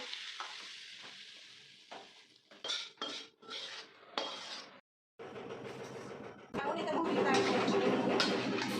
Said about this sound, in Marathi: आपण आता थंड झाले ते मसाला भाजलेला छानपैकी लोणचं ओतून घेऊ